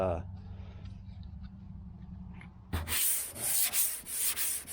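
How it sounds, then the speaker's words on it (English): Hand sanding Bondo body filler on a 1978 El Camino SS with a sanding block and 180-grit paper, steady rough scraping strokes in a rhythmic back-and-forth, close and fairly loud after a quiet opening. "I started sanding this because I was going to prime that while the Bondo was drying"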